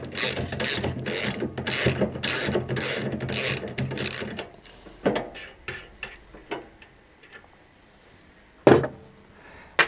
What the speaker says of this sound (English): with a 17mm spanner or socket is just to remove the nylock nut from the side